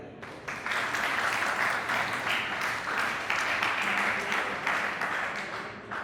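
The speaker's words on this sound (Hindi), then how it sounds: "तालियां मारो यार" Students and guests at a school farewell function break into a round of applause, a thick, lively burst of many clapping hands that starts abruptly and carries on steadily.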